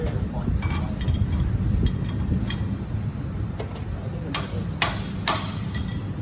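Hammer blows striking a spanner fitted on a drill chuck, several sharp metallic clinks spaced irregularly over a steady low rumble of machinery, moderately close.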